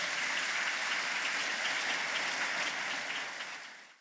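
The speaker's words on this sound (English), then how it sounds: "If you could please give a warm round of applause." Warm audience applause at an energy industry conference session on battery storage and power markets, a dense even wash of clapping that holds steady and then fades out over the final second.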